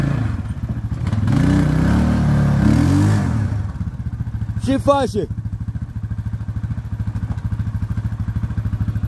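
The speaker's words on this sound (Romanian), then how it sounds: "vine cu motorietul el" An ATV four-wheeler arriving with its engine running, a steady rhythmic engine chug that continues throughout, with people talking over it and a brief squeaky clatter midway.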